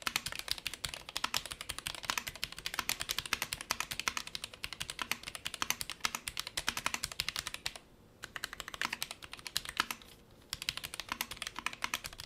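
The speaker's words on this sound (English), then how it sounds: "for people just interested in hearing what this keyboard sounds like" Steady, fast typing on a Royal Kludge N80 low-profile mechanical keyboard with red switches, crisp clacky keystrokes in a continuous stream with two brief pauses, close and clear.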